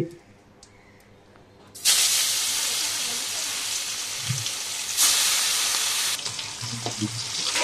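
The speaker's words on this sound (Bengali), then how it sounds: "চলে যাব সোজা মাছ ভাজতে" Koi fish hit hot oil with a sudden loud burst of frying, then settle into a steady, close, dense hiss and crackle that swells again midway, with faint background voices at times.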